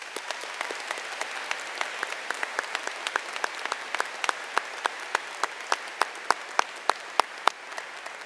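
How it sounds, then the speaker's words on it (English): An audience claps in unison at a high school graduation ceremony, a sustained close round of applause punctuated by sharp individual claps that grow more spaced and distinct before it fades. "Please join me in a round of applause for our office staff"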